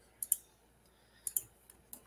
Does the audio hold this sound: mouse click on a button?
yes